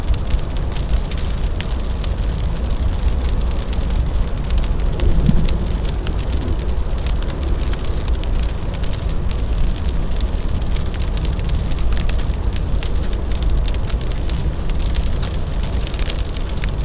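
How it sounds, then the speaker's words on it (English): Small hail and icy precipitation fall steadily during a New York winter storm, a dense continuous patter of tiny pellets hitting surfaces nearby, with a low rumble of wind underneath and no voices. "Sounds like a bunch of little hail coming down now."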